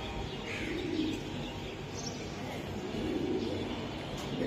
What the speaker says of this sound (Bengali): সেটা আর্মি একটা কবুতর।